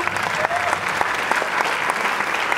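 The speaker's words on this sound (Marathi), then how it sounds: "सो या तगड्या टीमसाठी जोरदार टाळ्या होऊन जाऊ द्या." Loud, dense applause from the audience at a film trailer launch event, greeting the film team with sustained even clapping from a large crowd, brief and continuous.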